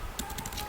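Quick keystrokes tapped on a computer keyboard, a short run of light, evenly spaced clicks close to the microphone with no talking.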